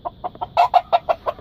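An eight-month-old rooster clucks in a quick, steady series of short calls, close and clear, with no talk over it.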